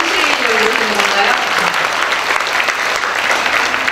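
An audience at an adult contemporary singers' awards ceremony applauds steadily, dense clapping filling the room, while a voice sings or calls out faintly beneath it.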